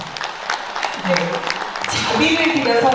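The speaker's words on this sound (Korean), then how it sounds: "박수 한번 부탁드리겠습니다" Applause breaks out at a Korean event honoring invited singers, starting light and growing denser, mixed with a crowd murmur and a voice over the clapping.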